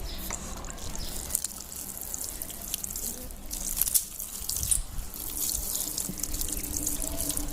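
Water sprinkled lightly over layered kitchen waste and dry leaves in a homemade compost, a steady soft splashing and trickling close by that runs throughout.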